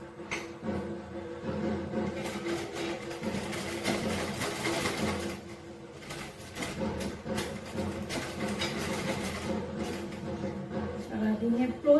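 A sewing machine stitches a shortened nightie in rattling runs of varying length, dropping off briefly around the middle before starting again, moderately close.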